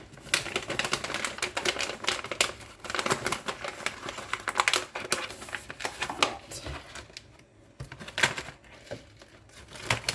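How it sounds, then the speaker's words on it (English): Dry pasta pours into a plastic bag, a dense, continuous crackling and rattling rush of hard pieces that comes in bursts, close by, with a brief lull before a final burst. "I'm going to get my pasta down in my little bag."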